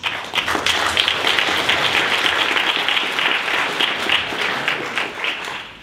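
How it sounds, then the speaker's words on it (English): An audience at a mathematics congress lecture applauds to welcome a speaker, a steady roomful of clapping that holds evenly for about six seconds and tapers slightly at the end. "Let's welcome our speaker with big applause."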